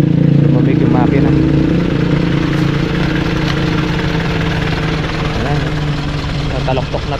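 A steady motorcycle engine rumbles at idle throughout after a steep mountain climb, with a person talking over it now and then.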